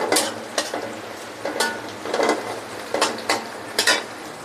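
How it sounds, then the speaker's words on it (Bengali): Onions fry in a pan, a soft sizzle running under repeated scraping strokes of a spoon, about eight rhythmic stirs heard close up with no voices. "দাঁড়াও, পেঁয়াজটা আর একটু ভাজা হোক।"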